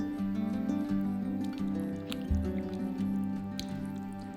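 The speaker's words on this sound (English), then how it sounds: "Stir in 120 ml or half a cup of double cream." Double cream is stirred into a pan of chopped tinned tomatoes, giving close, soft wet squishes and drips with faint kitchen hum behind.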